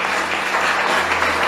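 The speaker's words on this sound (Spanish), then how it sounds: "Den un aplauso al Señor y acompáñenme." A church congregation claps steadily and densely for the whole short moment, a continuous roomful of applause without any voices on top.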